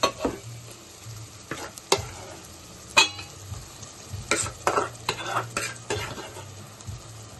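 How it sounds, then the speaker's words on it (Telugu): Boiled gongura leaves going into a pan of oil and ginger-garlic paste for gongura meal maker, a soft fry hiss beneath loud, irregular spoon stirs and scrapes against the metal. "ఇప్పుడు మనం ఉడికించుకున్న గోంగూర వేసుకుందాం"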